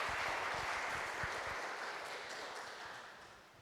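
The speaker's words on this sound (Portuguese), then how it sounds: "Palmas para eles." Applause from a church congregation at an Assembly of God service, a fairly soft wash of clapping that slowly fades over a few seconds.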